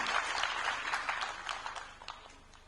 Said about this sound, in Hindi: चाहूंगा एक बार जोरदार तालियां सेवक राम जी के लिए।